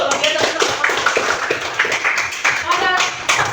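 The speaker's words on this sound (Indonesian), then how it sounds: "Oke, tepuk Sergio." Clapping in a classroom lesson for a child who answered correctly, sharp hand claps running steadily through the clip under a teacher's talk.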